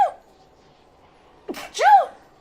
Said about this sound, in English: Hang on, I have to sneeze.